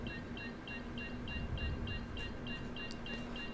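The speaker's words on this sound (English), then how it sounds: "You gotta listen for this, that beep, beep, beep as it speeds up" Locator beep in Star Citizen, a quick series of short high electronic pips repeating evenly and steadily, playing over a low constant hum of game background noise.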